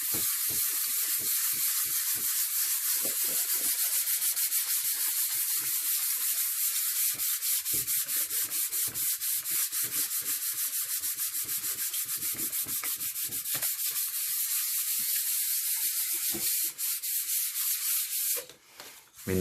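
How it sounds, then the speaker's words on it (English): Fine wet-and-dry sandpaper rubs over a wooden surface in a fast, steady run of close, hissing back-and-forth strokes for nearly twenty seconds, stopping just before the end. "Then back to this really fine, almost like wet and dry sandpaper."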